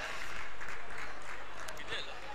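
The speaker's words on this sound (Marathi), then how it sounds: "एकदा जोरदार टाळ्या आहे दोन्ही बॅटर साठी" Applause from spectators at an amateur cricket match for the two batsmen, a short burst of scattered clapping from a moderate distance over outdoor background noise.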